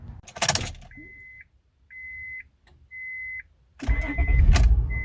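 A 2003 Acura TL, its P1399 misfire now fixed, sounds a string of steady electronic chimes, then the engine cranks and catches with a loud, close, low rumble.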